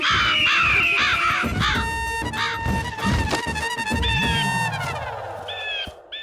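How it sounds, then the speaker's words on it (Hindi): Crows caw loudly and repeatedly in a dense, overlapping chorus, harsh calls stacked close together throughout with no gaps. "आप लोग आंखें खोलिए, कौवे आ रहे हैं।"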